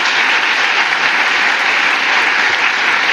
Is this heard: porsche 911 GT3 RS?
no